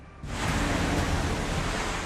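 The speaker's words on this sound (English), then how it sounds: "See, it's very windy." Steady, roaring broadband rush of strong wind during a UK winter storm, loud and continuous after a quieter first moment, with no voices.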